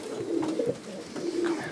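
A pigeon coos in soft, low repeated phrases at close range while being hand-fed nuts in a racing pigeon loft, with two or three short coo bursts and no talking.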